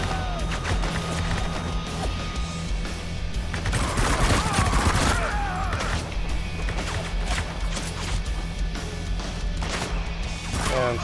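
Dense, sustained gunfire in the co-op mode of the video game Spec Ops The Line: rapid overlapping shots and impacts crack continuously at close range, with occasional heavier bangs.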